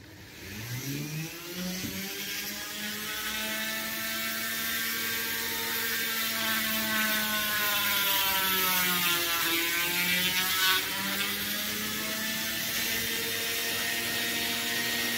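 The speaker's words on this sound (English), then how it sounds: "Now I'm going to try to drill this buckle head and this object which is thicker." A drill bores without a guide hole into a white rigid resin buckle head, the motor whining in layered tones that rise and dip as it works through the thicker piece, steady and fairly close, with no voices.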